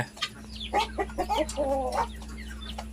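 Chickens cluck repeatedly at close range over a steady low hum, several birds calling in short, overlapping bursts.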